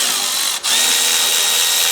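A power tool whirs loudly and continuously, briefly stopping before spinning up again, while bolts are run down on a Honda Civic TDC sensor during replacement.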